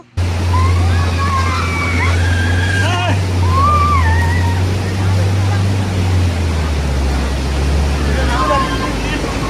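Floodwater surging down a main road like a river in Sivasagar town, Assam, during severe flooding, a steady loud broadband rush filling the whole clip, with a voice talking over it and brief chirpy sounds above.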